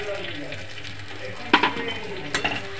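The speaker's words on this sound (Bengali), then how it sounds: "দিয়ে বেশ কিছুক্ষণ ধরে নাড়িয়ে এটাকে করতে হবে, কষতে হবে।" Green pea paste fries in a pan as filling for Bengali koraishutir kochuri, with a soft sizzle beneath two clear bursts of a utensil scraping and clattering as it is stirred.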